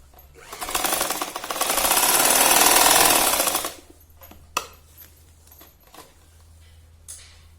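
A sewing machine stitching a fabric roti cover, a fast steady whirring run of about three seconds that stops, followed by a few quiet clicks and handling sounds close by.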